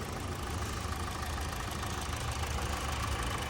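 A 2021 Kia Soul with a manual transmission idles at operating temperature, a steady low engine hum with a faint even rattle, quiet and unchanging throughout.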